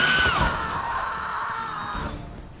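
A high, sustained wailing scream from sirens in the video game The Witcher 3 glides downward, then holds steady for about two seconds before cutting off, loud and close.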